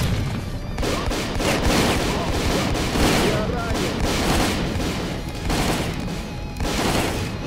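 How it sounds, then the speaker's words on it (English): Sustained gunfire from the S.T.A.L.K.E.R.: Call of Pripyat shooter game, a dense, continuous fusillade of shots and booms at fairly loud, even level throughout, with a few brief lulls. "stop shooting at my butt, please."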